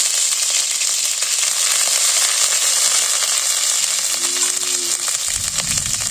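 Onion and garlic paste sizzling in hot oil with kalo jeera in a village kitchen, a steady bright frying hiss that continues throughout with a faint scrape near the end.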